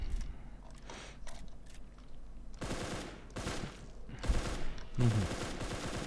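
Rifle gunfire rattles in the shooter game R2DA from a scoped Scar H, rapid bursts of shots in several distinct volleys separated by short pauses, close and loud.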